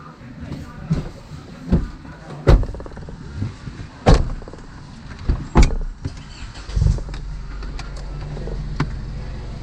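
Car door slams on an Isuzu Mu-X with a stock automatic transmission, several sharp thuds spread through the clip with occasional brief talk between them.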